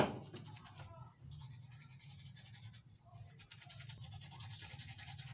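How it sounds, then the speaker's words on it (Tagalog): Teeth being brushed with a toothbrush in a home bathroom, a steady close scrubbing that runs the whole time and drops off briefly twice before starting again. "Toothbrush na tayo"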